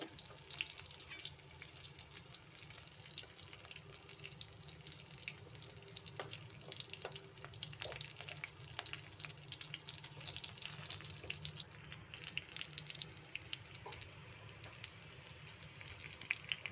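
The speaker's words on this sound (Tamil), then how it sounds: "பச்சை மிளகாய் பொரிஞ்சிருச்சு" Green chillies frying in hot oil for poha, a faint, steady crackling sizzle with scattered small pops, heard close up with no voices.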